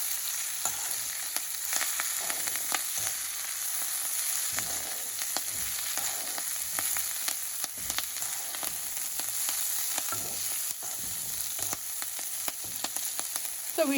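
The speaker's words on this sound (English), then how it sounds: "I'm going to add this kale and coriander along with this urud dal and the red chili, and we have to fry this one" Urad dal, red chili, kale and coriander fry in a pan for coconut chutney, giving a continuous close hiss of sizzling oil with faint crackles and occasional stirring scrapes, steady throughout without speech.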